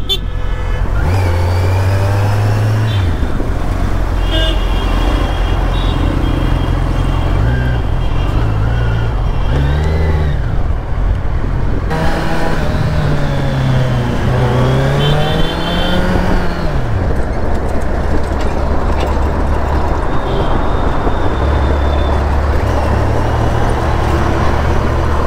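A 2023 Kawasaki Z900 Anniversary Edition motorcycle accelerates hard in sports mode, its loud engine rising and falling through rapid gear shifts, close and continuous, with traffic around it.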